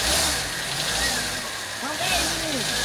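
A Ford Belina's engine revs up and pulls away close by, the pitch rising and falling through the gears, with people talking over it.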